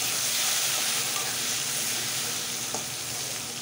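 Chopped onion and whole cumin seeds frying in hot oil in a pan, a steady, close, even sizzle that holds throughout with no voices.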